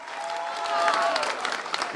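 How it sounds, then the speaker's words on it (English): An audience at a Ghanaian traditional-wear beauty pageant breaks into brisk applause, the dense clapping swelling slightly midway and running on for two seconds. Crowd voices blend into the sound. "Ladies and gentlemen, a round of applause for Dio."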